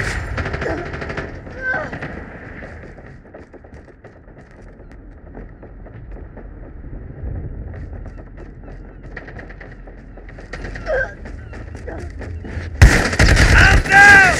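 Gunfire in Call of Duty Mobile during a shotgun-only match: scattered distant shots and crackling under a soft ambient bed, ending in a loud, dense burst of close fire.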